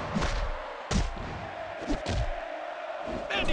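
A Styles Clash wrestling slam in the WWE Mayhem mobile game lands as a few sharp thuds over a steady roaring arena crowd, with bursts of cheering and game effects around the impacts.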